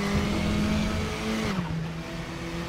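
A KTM X-Bow RR race car in the RaceRoom racing game, engine droning at high revs with a steady loud tone that shifts down in pitch midway as it accelerates on.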